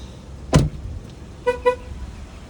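A Ford's door thumps shut, then two short electronic chirps sound in quick succession as the car locks.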